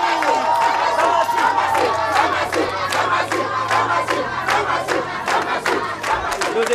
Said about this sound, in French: On applaudit ici pour monsieur Samassi.